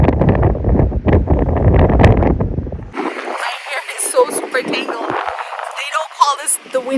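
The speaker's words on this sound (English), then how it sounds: "It is definitely windy here, even more so than Chicago." Strong wind buffets the microphone on the Essaouira coast in Morocco, a loud rumbling gust for the first few seconds that gives way to thinner gusting with voices talking underneath.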